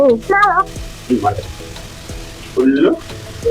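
Mushrooms for fried rice frying in a pan, sizzling loudly in close bursts while being stirred, with brief scraping and quieter gaps between.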